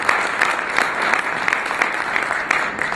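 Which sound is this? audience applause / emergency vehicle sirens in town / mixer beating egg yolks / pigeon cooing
audience applause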